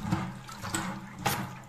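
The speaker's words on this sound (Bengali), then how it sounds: "তো আমি এগুলোকে একটু ধুয়ে নিচ্ছি।" A running tap washes soaked items, with a steady splashing flow and a few louder surges of water, heard close by.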